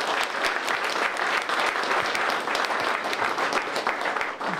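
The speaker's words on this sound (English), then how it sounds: "let's give them both a round of applause" Steady, full round of applause from an audience at a congressional art competition event, dense overlapping claps sustained throughout at an even level with no talk.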